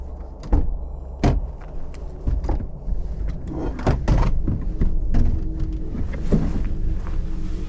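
A car door opens and the driver steps out during a police traffic stop, with a run of close clicks, thumps and rustling movements, the latch and door knocks sharp against a quiet background.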